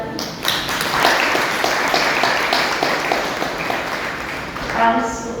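An audience bursts into applause, a dense, sustained patter of many hands clapping that swells slightly near the end, with voices audible underneath.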